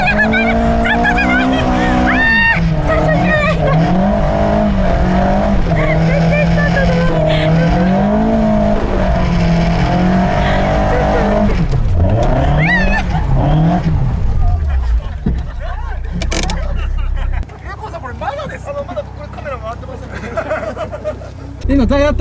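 A car on a mountain pass course revs hard as its tires squeal while being warmed up. The loud, continuous engine drone rises and falls, with voices talking over it, before the noise drops away near the end.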